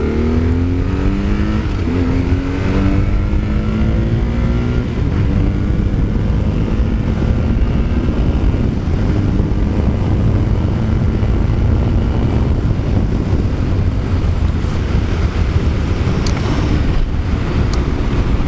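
A BMW R1150R Rockster motorcycle accelerates hard on an open road, its 85-horsepower boxer engine climbing steadily in pitch through the gears with wind rush, loud and continuous for the whole stretch.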